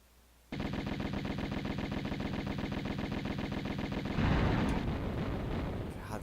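Sustained Uzi automatic fire in Tomb Raider rattles in a rapid, continuous burst that runs for several seconds, swelling louder toward the end, with no talk over it.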